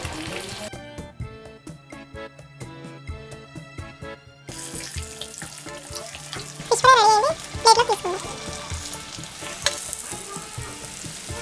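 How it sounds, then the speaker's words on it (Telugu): Fish pieces frying in hot oil for a masala fish fry, a steady sizzle over a layer of background music, rising louder with bursts of crackle midway as the pieces are turned. "నూనె కాగింది, చేప ముక్కలు వేసుకుందాం"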